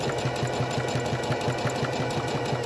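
A sewing machine runs steadily as it back stitches and then forward stitches ribbon trim onto a tutu, giving a fast, even mechanical chatter that stays close and continuous the whole time.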